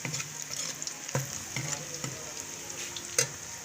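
Steady hiss of onion frying in hot oil with intermittent stirring scrapes and clinks, close and continuous, no voices.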